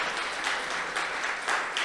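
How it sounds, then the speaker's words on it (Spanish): A church congregation applauds in a brief, steady burst, many hands clapping together in a roomy space for under two seconds. "Dele un aplauso al Señor."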